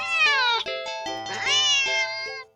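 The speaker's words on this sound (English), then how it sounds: "the cat meows sharply at you and dashes off around the corner" A cat meows in a choose-your-own-adventure visual novel game: two drawn-out, sharp, whiny meows in close succession, loud and clear with no talking.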